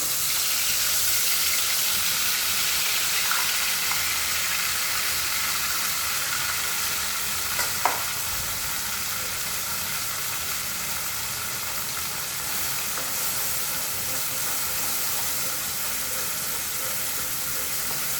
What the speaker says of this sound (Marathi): आपण हा गोळा छान परतून घेऊ